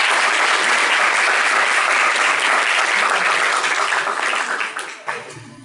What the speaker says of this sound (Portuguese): eu gostaria de pedir uma salva de palmas para os convidados e para a professora.